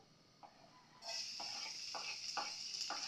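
Garlic dropped into hot oil for lumpiang shanghai starts a steady sizzle about a second in, with a few soft stirring scrapes recurring through it, close and moderately loud.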